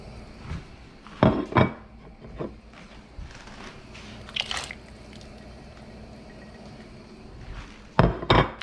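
Carrots, onion and celery tipped into a cooking pot for Pennsylvania Dutch chicken potpie, making a few soft thuds and clatters spread across the stretch, with quieter rustling in between.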